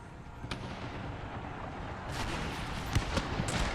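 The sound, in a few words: grenades exploding in battle, Empire Total War video game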